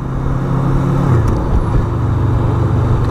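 A 2018 Honda VFR800X Crossrunner motorcycle rides through traffic, its engine droning steadily up close with a brief shift in pitch partway through and a constant wash of road noise.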